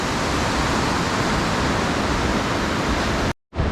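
Athirappilly waterfall roars as a dense, steady wash of falling water, loud and enveloping, then cuts out abruptly for a moment near the end.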